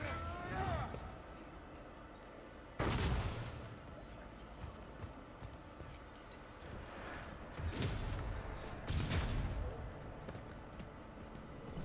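Turrets in the Rogue Trader video game fire in a few sharp, punchy blasts spread over the clip, heard over continuous game noise and scattered clatter.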